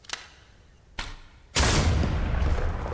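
A LAW rocket launcher fires in a VR shooter game: two short sharp bangs are followed by a loud blast whose roar carries on to the end, heavy and close.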